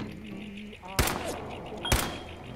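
Gunshots in Fallout 4, two sharp loud reports about a second apart, ringing out over low game ambience with a voice talking.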